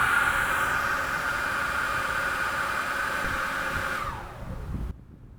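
A SunJoe leaf blower roars at full speed with a steady, loud broadband rush, alone, before the airflow drops off and cuts out near the end.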